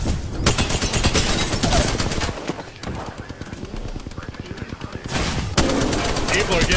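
Rapid automatic gunfire rattles in a video game match, long loud bursts with a brief lull in the middle, close and dense, with a player's voice talking over parts of it.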